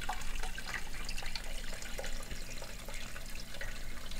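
Water pours steadily into a cooking pot, being filled with plenty of water for boiling pork belly for homemade ramen, a continuous close, bright splashing rush with no talk.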